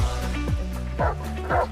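A dog barks in a film scene, several rough woofs and yips at a steady pace over a low musical bed, fairly close and moderately loud.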